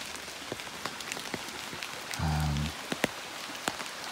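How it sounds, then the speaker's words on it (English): Steady rain pattering on a surface at a night campsite in Ahtanum Canyon, with scattered louder drops tapping close by and a brief low hum partway through. "It's been raining all night."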